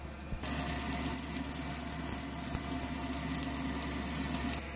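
Potato pieces cut about half an inch thick fry cut side down in a pan, a steady, close sizzle that holds evenly throughout with no talking.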